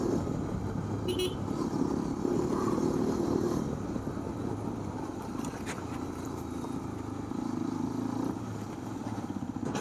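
A 2025 Hero Xpulse 210 motorcycle engine drones steadily at close range while riding on a road, with wind rumble and faint road noise, and a brief distant horn toot.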